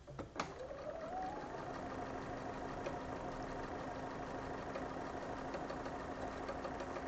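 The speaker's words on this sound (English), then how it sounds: "sewing them together" Sewing machine stitching quilt pieces together, a continuous close mechanical whir with a rapid steady needle chatter, starting with a brief click and running evenly without pause.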